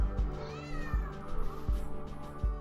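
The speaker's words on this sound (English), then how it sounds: "I especially love True Faith's cat's reaction to this amazing time" A cat meows repeatedly at close range, with several drawn-out, wavering calls and low thumping noises, and no speech over them.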